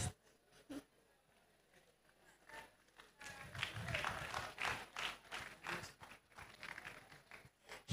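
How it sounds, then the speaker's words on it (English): A church congregation claps during worship, first a few scattered claps and then a dense, irregular burst of clapping that rises and falls, with voices mixed in. "I thought we are clapping for Jesus."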